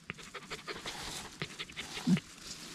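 A dog pants hard after running, quick rhythmic breaths close by with a brief louder huff near the end.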